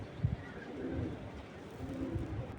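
A Tiger Grizzle racer pigeon pair cooing close by, soft low rhythmic coos repeating several times over a steady background hiss.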